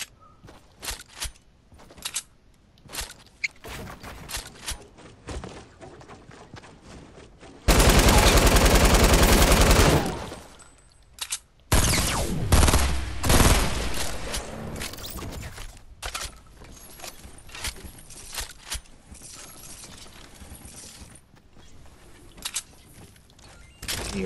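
Gunfire in the Fortnite video game on the Paradise Palms map: repeated sharp shots and bursts of automatic fire, with one very loud sustained burst midway, mixed with footsteps and other game sounds.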